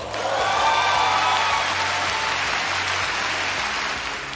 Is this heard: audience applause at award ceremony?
yes